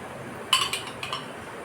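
A metal pan is set on a kitchen stove before banana-leaf fish paturi is cooked, giving two or three short, bright clinks close by against a quiet background.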